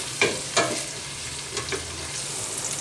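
Onions stirred and frying in a pan for a potato and leek soup with chorizo: a steady sizzle with a few distinct scraping stir strokes near the start and middle, close and alone.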